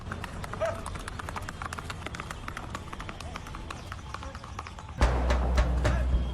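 A black horse walks with a rider on its back, its hoof clip-clops coming as a steady run of taps over a low outdoor rumble that grows louder near the end.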